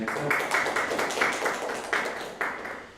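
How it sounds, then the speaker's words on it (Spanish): Applause from an audience after a talk on discipline: a fairly sparse, moderate clapping with distinct individual claps standing out, tapering off toward the end. "Un fuerte aplauso, gracias"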